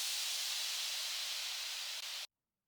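A burst of exhaust noise used as a sound effect in a future bass track, a loud, steady broadband hiss sustained for about two seconds before cutting off abruptly into silence.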